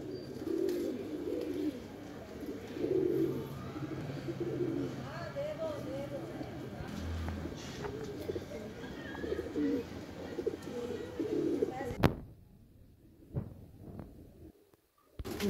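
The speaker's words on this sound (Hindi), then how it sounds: "जैसे कि आपको अभी दिखाया था कांटा कस कबूतर" Soft cooing of Madradi pigeons in a busy, low rumbling setting, with murmuring voices underneath; the sound cuts off abruptly near the end, leaving a few clicks.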